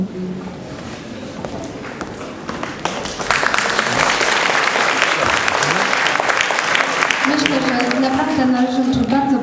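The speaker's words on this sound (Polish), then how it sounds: "bardzo gorące brawa" Warm applause from an audience after a school play, a dense sustained patter that grows louder and fuller partway through, with voices and a few tonal sounds emerging near the end.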